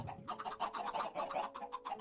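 Minecraft chickens cluck in quick, repeated bursts, moderately close and fairly soft, with no talking over them.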